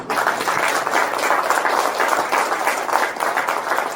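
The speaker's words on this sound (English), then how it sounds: "let's give them a round of applause" A crowd at a homesteading speaker series claps in a warm, steady round of applause, an even wash of many hands that holds at a constant level without speech.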